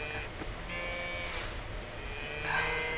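A cow in the farming video game Coral Island lows in short, nasal calls, with a brief lowing sound near the start and another louder one toward the end over a steady background.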